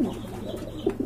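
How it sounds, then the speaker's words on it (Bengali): A pair of silver Sirazi pigeons makes a couple of brief, low coos, soft and close, over a quiet background. "এখানে কিন্তু এক জোড়া সিরাজি কবুতর দেখতে পাচ্ছেন"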